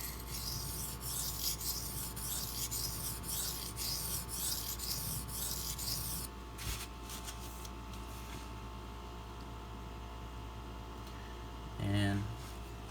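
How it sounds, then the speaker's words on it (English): A Benchmade Mini Crooked River knife blade grinds on a sharpening stone in steady rhythmic rasping strokes for about six seconds, then stops, leaving quieter background with someone speaking. "put your knife on the stone, and grind"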